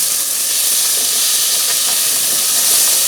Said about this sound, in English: we will add the pomodorini. Give them a quick stir.